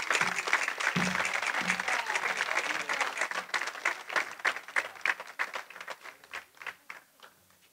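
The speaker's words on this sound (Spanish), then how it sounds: "Un fuerte aplauso." An audience applauds the performers at a tamborileros contest in Guadramiro, dense clapping that thins into scattered individual claps and tapers off toward the end.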